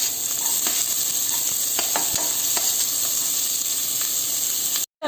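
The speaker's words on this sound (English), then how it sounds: "Let it get tossed. I am going to add this thinly sliced onions." Thinly sliced onions and julienned ginger stir-fry in a hot pan with a loud, continuous sizzle and hiss. The sound cuts off abruptly just before the end.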